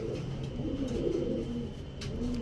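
Pigeons at a bustling pigeon market coo in low, throaty, overlapping calls, close by and continuous over soft background noise.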